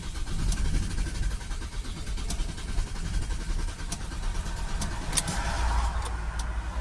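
A Ford Transit MK8 2.0 with a blocked DPF, its engine cranking without starting, a continuous low mechanical churn heard up close with a few faint clicks along the way.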